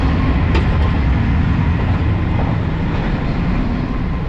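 Steady, loud rumble inside an SJ tilting train running from Stockholm to Copenhagen, dense low-end roar with faint rattles and no talk, constant throughout.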